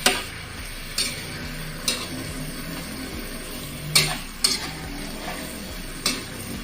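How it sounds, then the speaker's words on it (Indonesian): Medan anchovies frying in a pan, with several sharp clinks and scrapes of a utensil against the metal spaced about a second apart over a low steady background. "sekarang kita menggoreng teri Medan ini ya, harus digoreng dulu, jadi dimasaknya jangan mentah"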